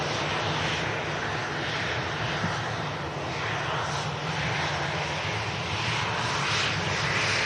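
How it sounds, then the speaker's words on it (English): Jet engines of an EasyJet airliner at Manchester Airport give a steady, loud broadband roar with a low rumble that holds without pause, heard at a distance. "this EasyJet in shot is heading out to Strasbourg."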